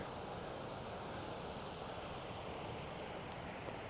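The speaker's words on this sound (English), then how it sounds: "But it's like a waterfall right over there." Water pouring steadily from a small waterfall along a stream in the Black Hills, South Dakota, a dense continuous rushing roar close by with some wind noise, no voices.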